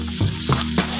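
Oil sizzles steadily as green chili is stir-fried in a hot pan, with a few scraping stirs of the spatula breaking through the constant close hiss.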